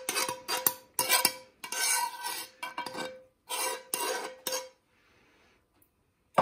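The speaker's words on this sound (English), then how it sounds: "We scraped it all off of the pan and now it's all in one tray" Pasta in a double cream, ham and cheese sauce being scraped out of a pan into a tray, with a run of close, rapid metal-on-pan scrapes and knocks that ends in near silence.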